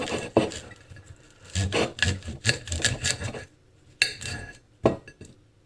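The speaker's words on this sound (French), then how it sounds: "je les coupe en tronçons à peu près comme ça" A kitchen knife chops cleaned leeks into sections on a board: a series of crisp, close cuts and scraping strokes in irregular bursts, some quick clusters, with short pauses between, no talk.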